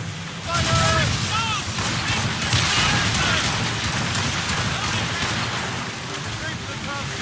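Ship cannons fire in Assassin's Creed Rogue, heavy booming volleys rolling over each other amid naval battle noise, while crew voices shout throughout.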